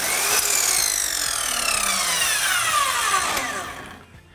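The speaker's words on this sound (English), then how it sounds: "I cut that on the miter saw at 45-degree angle" A miter saw slices pallet wood at a 45-degree angle, a loud, close whining cut with a falling pitch that winds down and stops near the end.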